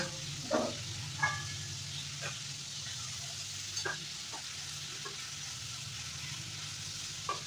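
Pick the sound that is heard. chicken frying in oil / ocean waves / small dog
chicken frying in oil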